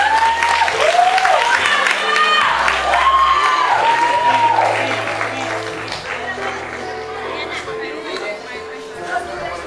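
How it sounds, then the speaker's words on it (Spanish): Guests at a quinceañera applaud Mrs. Marta with steady, loud clapping and crowd chatter. Music plays underneath, and the clapping eases slightly toward the end. "La señora Marta, fuerte un aplauso aquí"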